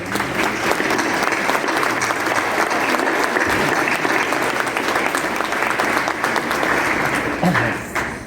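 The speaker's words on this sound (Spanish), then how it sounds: "les pido por favor un fuerte aplauso" Strong, sustained audience applause for María Cristina Etala at a university event, a dense steady wash of many hands clapping close and loud for several seconds, with a brief bit of talk near the end.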